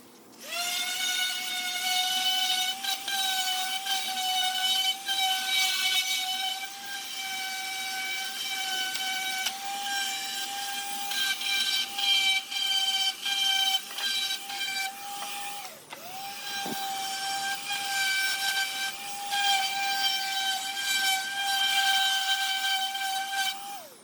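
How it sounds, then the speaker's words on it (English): A DA sander smoothing the cut edge of a plastic front bumper for a 5th Gen 4Runner, a loud, steady high-pitched whine with airy hiss that holds almost unbroken, briefly dipping and recovering midway. "we're going to use a DA sander and clean that whole edge up"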